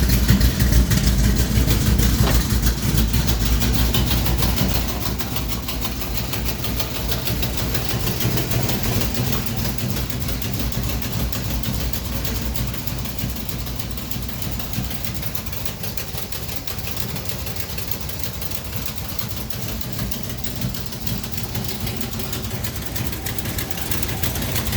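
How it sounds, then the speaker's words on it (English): A Plymouth Duster with a 440 V8 idling on a cold start, a loud, steady rumbling idle that runs the whole time and is slightly heavier in the first few seconds. "I have to talk loud because the car's loud."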